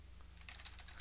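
Rapid keystrokes on a computer keyboard while a command is entered to remove a virus, a quick run of soft clicks over a steady low hum.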